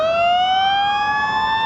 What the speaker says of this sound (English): Another ambulance coming.